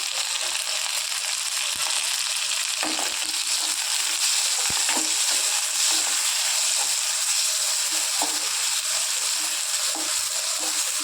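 Steady crackling sizzle of onions frying in a pan, continuous and close, with small pops and scrapes scattered through.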